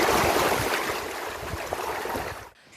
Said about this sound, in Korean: 밀려갔다 밀려오기를 반복하며 잔잔히 부서지는 한려해상의 파도 소리